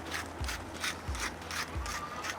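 A pepper grinder twisted over steaks beside a Kamado Joe soapstone and cast iron griddle, giving a rhythmic series of close, gritty ratcheting crunches, about four turns in a couple of seconds, with no talk.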